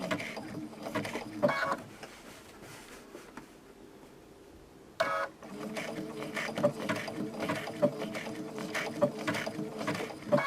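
A sewing machine sews applique fabric, its needle giving a soft, rhythmic mechanical ticking close by, with a quiet pause in the middle and a brief louder burst before the stitching resumes.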